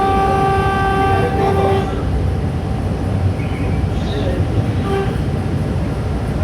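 An Abuja metro train moves with a steady low rumble, and a horn tone sounds for the first two seconds before fading into the running noise.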